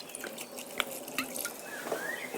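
A small splash of white wine poured into a pot of sauerkraut, with light dripping and trickling sounds close by, fairly quiet.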